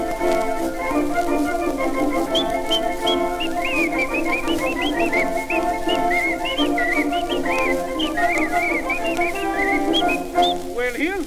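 A played record carries a bright, continuous melodic whistled tune over instrumental backing, loud and steady with warbling trills throughout.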